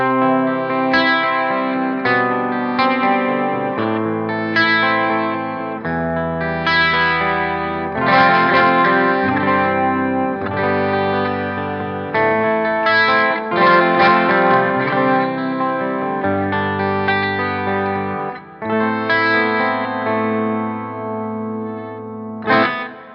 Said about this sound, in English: The 12-string sounds like this.